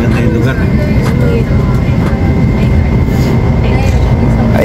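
A bus approaches head-on and rumbles past on a road near Tanauan, Batangas, with steady loud engine and road noise filling the whole stretch.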